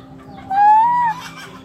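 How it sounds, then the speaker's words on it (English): One chicken gives a single clear, drawn-out call lasting about half a second, close and loud over a quiet background hum. "Now over here, you see another chicken."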